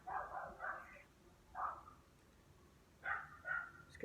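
A dog barks in a few short bursts at a distance, faint and intermittent, with quiet gaps between the barks.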